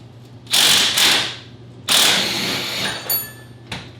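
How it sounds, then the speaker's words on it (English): An impact wrench hammering at a corroded bolt on a 2002 Subaru WRX: two loud, close, rattling bursts, a longer grinding run, then a brief final burst before it stops. "Let's get the wrench, the impact wrench."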